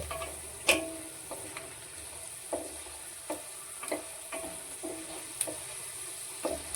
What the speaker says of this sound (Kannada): ಇನ್ನು ಸ್ವಲ್ಪ ಫ್ರೈ ಆಗಬೇಕು. ಶೇಂಗಾ ಎಷ್ಟು ಫ್ರೈ ಆಗುತ್ತೋ ಅಷ್ಟು ಚೆನ್ನಾಗಿರುತ್ತೆ